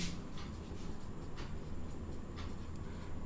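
Pen strokes scratching on paper or a board in a math lesson, several faint broadband scrapes repeating over a steady low hum, no voice.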